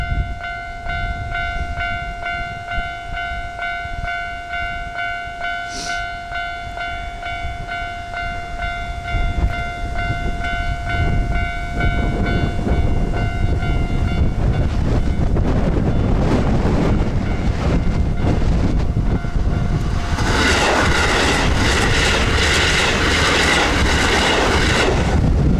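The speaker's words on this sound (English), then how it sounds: "Train so fast. Oh, there's another one coming." A fast train rushes past on a Japanese line, its roar building from a steady distant rumble into a loud, broadband wash with wind buffeting near the end, with no talking over it.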